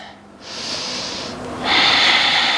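Deep, slow breathing during a yoga flow, a long audible inhale through the nose followed by a stronger, airy exhale, close and clear with no talking.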